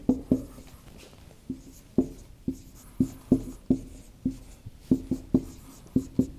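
Chalk or marker taps and strokes on a board as an equation is written during a physics lecture, a close sequence of sharp irregular clicks with short pauses between.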